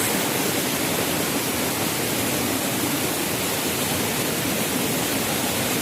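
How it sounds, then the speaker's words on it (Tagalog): Tanawan Falls in Dingalan, Aurora pours in a steady, dense roar of falling water, close and unbroken from start to finish, with no voices. "ito na mga buddies, ang Tanawan Falls"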